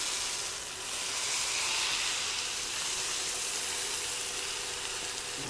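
Beef tenderloin sears in a hot pan, a steady close sizzle and hiss running continuously without a break at an even, loud level.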